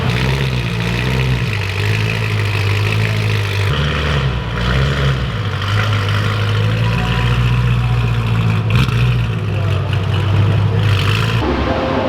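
A BMW E90 M3, just fitted with new rod bearings, idles while warming to full temperature, a steady, close, low engine drone that holds even and unbroken for the whole stretch.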